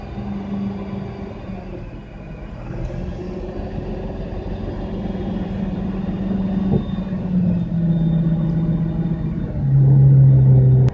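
Cat CT660 dump truck engine idling with a low rumble that rises as it is revved while the dump body raises, the whine and rumble growing louder toward the end.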